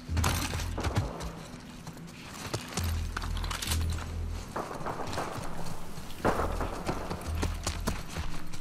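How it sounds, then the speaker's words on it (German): Pony hooves trot at a steady, rhythmic clip-clop in the video game The Last of Us Part II, fairly close and continuous, over a low ambient rumble with no talk. "Wir haben endlich wieder ein Pony!"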